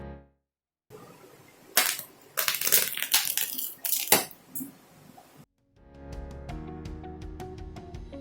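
Minced meat noodles squeezed by injected air out of one end of a tube, giving loud bursts of spluttering, squelching crackles for several seconds with pauses between them, followed by faint background music.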